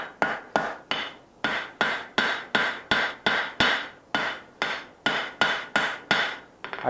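Hammer forging a steel knife blank: about seventeen sharp, ringing blows in a steady, even rhythm, close and loud, each with a short metallic decay.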